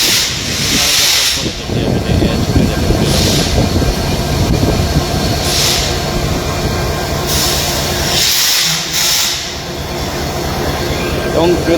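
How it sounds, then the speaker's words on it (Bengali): The Banalata Express departs a platform at Kamalapur railway station, a loud, continuous rumble of rolling wagons with repeated hissing bursts and wheel squeal, a voice speaking over it at times. "7 নম্বর প্ল্যাটফর্ম থেকে বদলতা এক্সপ্রেস ট্রেনটি ছেড়ে যাবে রাজশাহীর উদ্দেশ্যে"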